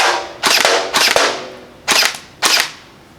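An Out-of-Darts BK-1S dart blaster fires four sharp, close, loud shots in uneven pairs, each a crisp crack with a short decay, with no voices.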